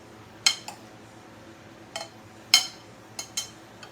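Black bean mango salad with orange is mixed in a bowl: a handful of sparse, light utensil clinks against the bowl, close and quiet, with no voices.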